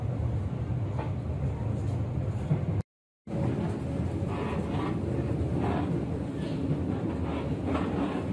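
Cikuray passenger train running on the rails on a Friday in June 2022, a steady rumbling roar with faint rhythmic clatter heard from nearby, continuous apart from a brief cut of silence partway through.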